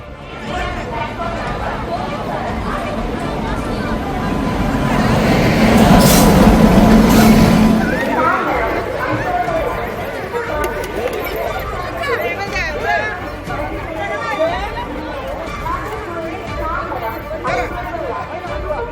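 A crowded railway station in Nellai (Tirunelveli) where passengers push to board trains, with steady crowd chatter and babble throughout and a louder surge of noise in the middle, likely a train moving nearby.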